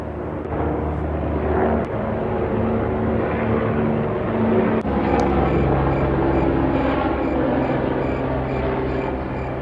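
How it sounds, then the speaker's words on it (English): An airplane flies overhead, a steady, loud, broad engine roar that holds through the clip with no talking. "we're gonna wait for this airplane to go past."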